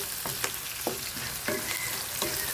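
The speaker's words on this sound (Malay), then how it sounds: "Okey, kita goreng agak sedikit layu ya." Spice paste for clam rendang fries in a pan with a continuous soft sizzle, broken by several short scraping stirs at irregular intervals, fairly quiet and with no talking.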